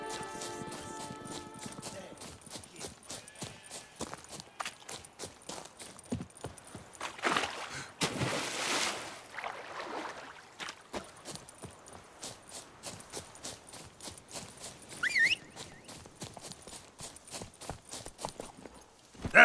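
Roach, a horse in The Witcher 3: Blood and Wine, clip-clops along at a steady walking rhythm, hoofbeats fairly close and moderate in level, with a brief whooshing swell partway through and a few sharper knocks later.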